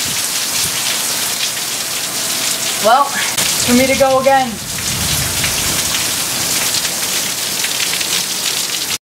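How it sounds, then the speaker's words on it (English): Steady rain falls outdoors in a continuous hiss of drops on surfaces, with a person speaking briefly partway through. "How about you go run in the rain?"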